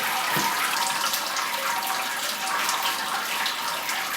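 Liquid drains steadily from a lifted grain basket in a Grainfather brewing system, a continuous hissing, splashing stream like a running tap, close and fairly loud with no talk over it.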